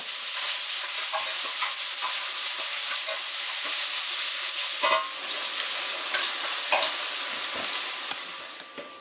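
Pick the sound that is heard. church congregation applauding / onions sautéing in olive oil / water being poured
onions sautéing in olive oil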